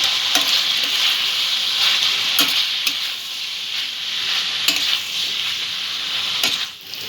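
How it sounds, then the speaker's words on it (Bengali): Potatoes and spiny gourd (kankrol) sautéed with chilli powder and other spices in a pan, a loud close sizzle punctuated by rhythmic scraping and tapping of a spatula. "সব মশলাটা সবজির সাথে ভালো করে কষিয়ে নেব"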